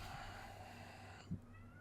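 A house cat gives a single short meow, close and fairly clear, over a steady low background hum.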